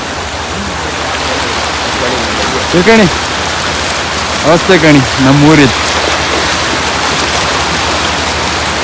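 Heavy rain pours steadily across Udupi district, a loud, dense and continuous hiss close by, with people talking briefly over it partway through.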